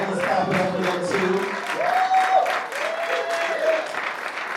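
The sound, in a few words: audience applause for musicians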